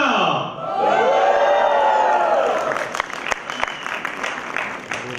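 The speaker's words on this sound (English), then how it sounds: "Toastmasters across District 98, one big round of cheer." An audience at a Toastmasters District 98 event bursts into loud cheering and whoops, then settles into steady applause with scattered claps and shouts.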